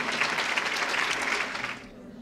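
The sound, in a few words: audience applause at a fashion show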